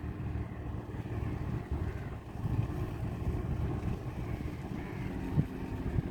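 A small boat or ship carrying a coconut tree gives a low, steady engine rumble mixed with wind buffeting, continuous and fairly distant, with no talk.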